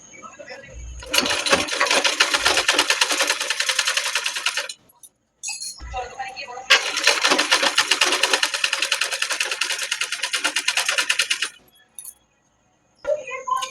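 Sewing machine stitching lining cloth to a Madhubala blouse fabric, close and loud, running in two long steady bursts of rapid stitching separated by short pauses, with a clink and brief quiet gaps.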